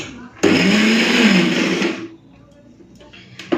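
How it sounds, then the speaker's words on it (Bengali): A blender grinds masoor dal dry with no water, a loud steady whirring burst lasting about a second and a half before cutting off, followed by quieter room noise and a brief clatter at the end. "তো ডালটাকে প্রথমে জল ছাড়াই বাটি"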